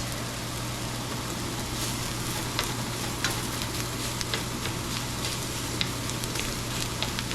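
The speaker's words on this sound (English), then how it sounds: "as this bacon heats up, it'll provide some more grease as well" Bacon, about a quarter pound, sizzles steadily in a hot pan as it heats and renders grease, a dense continuous crackle with scattered sharper pops and a low hum underneath, no talking.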